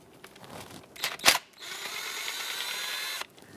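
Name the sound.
ratchet removing 8mm valve cover bolts, Dodge Grand Caravan 3.6L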